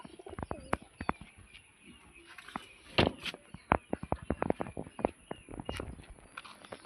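Pigeons in a coop, including a newly bought male bird, give repeated soft coos and short calls close by, with scattered rustling and foot or wing shuffling throughout.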